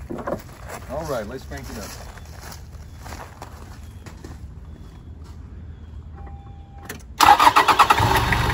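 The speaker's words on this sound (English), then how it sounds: "show you how nice the engine cranks" A Toyota Land Cruiser LJ78 turbo diesel engine cranks briefly and fires up, settling into a loud, steady clatter after several seconds of quiet shuffling and faint handling noises nearby.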